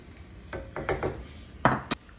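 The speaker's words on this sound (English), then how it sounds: "when the meat browns all the way, I'll be able to drain it" Ground taco meat browning in a pan, stirred with a few soft scraping strokes and two sharper clinks of utensil on pan over a quiet sizzle.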